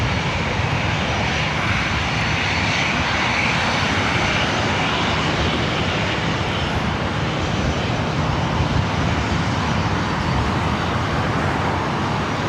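Delta jet airliner at LAX, cleared for takeoff on runway 24 right: a loud, steady, broadband engine roar holding unbroken for the whole stretch, with no voices over it.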